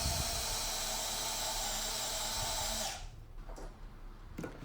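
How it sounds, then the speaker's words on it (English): A power drill bores holes for a Craftersmark floating hidden shelf, running loud and steady for about three seconds before cutting off, leaving a quieter room with a few small knocks. "And back to more drilling."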